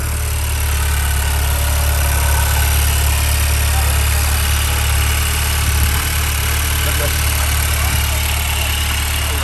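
A Honda Civic Type R FK8 with upgraded fuel injectors idles nearby after starting, a steady, loud low engine rumble with constant vibration, while a voice speaks briefly over it.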